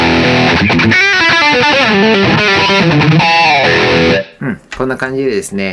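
Electric guitar distorted through the POD Farm amp simulator, a loud sustained riff with heavy drive and effects that rings out and stops, followed by brief speech.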